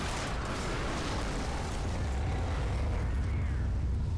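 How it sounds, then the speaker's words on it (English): In the Left 4 Dead video game, a big explosion sounds as a heavy, sustained roar and rumble that fills the mix and slowly fades, with no one speaking over it. "There's an explosion here."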